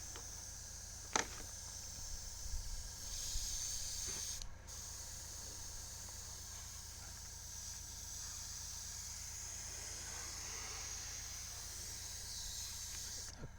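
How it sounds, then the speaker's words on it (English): Airbrush spraying primer onto a model trailer floor panel, giving a faint, steady hiss of compressed air that runs through the clip, with a few small knocks and clicks early on. "this is the absolute basics of airbrushing"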